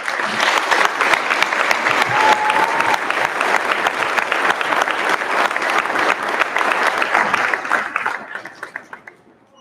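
An audience at a high school graduation commencement applauds student speakers, valedictorians and salutatorians, with loud sustained clapping from a large crowd that fades out toward the end.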